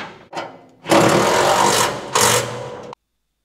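Power driver spinning bolts into a steel tractor tool storage rack, two loud, close bursts of whirring motor noise that cut off abruptly, preceded by a brief clack.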